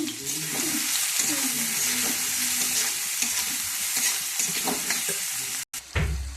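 Onion frying in a pan for a spinach (palak paneer) dish, a steady loud sizzle with stirring scrapes throughout, a brief cut near the end, and faint talk in the background.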